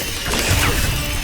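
A Confringo spell lands in Hogwarts Legacy with a short, loud crashing impact and a brief whooshing burst that fades quickly.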